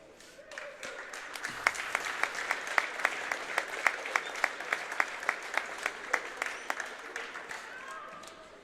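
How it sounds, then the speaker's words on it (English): Basketball fans in a high school gym applaud an injured player as she is helped to her bench, a steady wash of clapping with sharp individual claps standing out, sustained for several seconds at moderate distance. "he gets a round of applause from her fans, and the GR fans"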